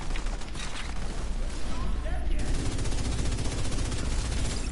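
Rapid, continuous gunfire from the tactical shooter Task Force 21 plays at steady loudness, with a dense rattle of shots and a voice talking over part of it.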